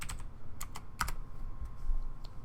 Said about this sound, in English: Step 2, type in Vault.